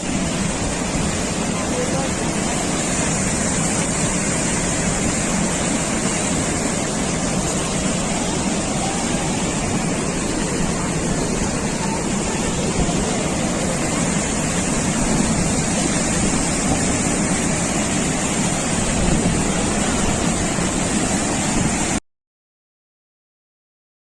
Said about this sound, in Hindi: झील का पानी सड़क पर से होकर बह रहा है।